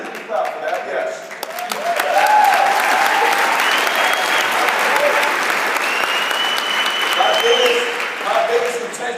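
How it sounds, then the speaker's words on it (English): Sustained audience applause fills a convention hall after a motivational speaker's line at a business convention, loud and steady throughout with a brief voice or cheer rising over the clapping. "You can clap for that."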